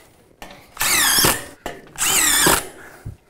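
Power drill driving screws into joists while building a bulkhead or soffit, two loud whining bursts of about half a second each separated by a short pause, close and with no talk.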